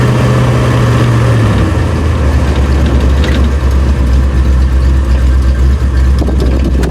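A 1970 Fastback's engine idling loudly and steadily, a deep continuous rumble close by, with its pitch dropping slightly early on and then settling.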